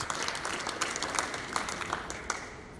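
Applause from the audience at a national spelling competition in Abuja, a continuous moderate patter of many hands clapping in a hall, fairly even and sustained, a little distant.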